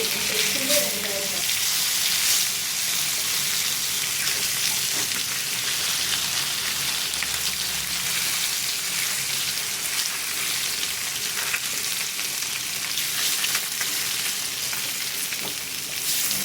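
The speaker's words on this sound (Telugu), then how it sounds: "టర్న్ చేసుకొని ఇలా తిప్పుకుంటూ ఫ్రై చేసుకోవాలి" Fish pieces fry in hot oil in a pan while they are turned over, giving a steady, close sizzle. A brief clatter from the turning comes near the start, and no one speaks.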